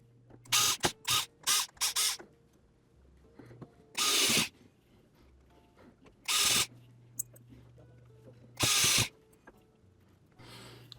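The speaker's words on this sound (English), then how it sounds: "Put the 100 screws back in." A small electric screwdriver drives screws back into the plastic front shell of a DJI Agras remote controller. It runs in short, loud whirring bursts, first in several quick spurts and then in longer single runs separated by quiet pauses.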